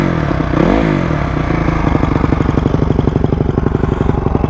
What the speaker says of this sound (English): Idle does seem kind of high to me.